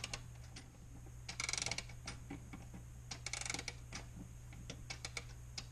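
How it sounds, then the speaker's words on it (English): A winding key turning counterclockwise in a vintage Hamilton 31-day clock gives a close, quiet run of ratcheting clicks and ticks in two bursts, with scattered single clicks between and no voices. "We'll turn the key counterclockwise until we meet resistance again."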